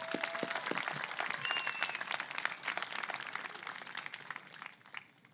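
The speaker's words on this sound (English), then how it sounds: "I'd like to begin my speech with a round of applause for all the teachers out there" Audience applause for teachers at a 2023 high school commencement ceremony, a dense crowd clapping steadily for about five seconds before thinning out and fading at the end.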